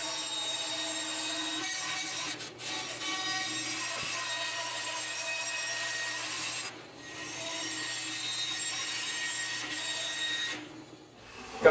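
A saw cuts through plywood in a long, continuous grinding whine with a steady hum, briefly dipping twice before the cut winds down near the end.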